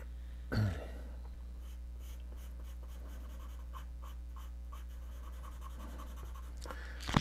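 Drawing a John Deere logo on steel makes faint, rhythmic scratching strokes over a low steady hum, with a sharp bump near the start and a brief louder scrape at the end.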